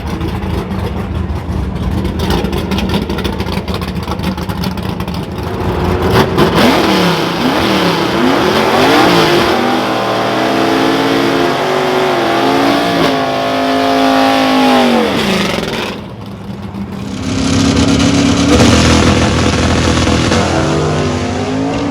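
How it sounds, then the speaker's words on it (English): A 1971 Ford Boss 351 Cleveland V8, making about 500 horsepower, revs hard toward 7,000 rpm in repeated loud, close bursts that sweep up and fall back, then briefly drops before climbing again. "And how high do you rev it up?"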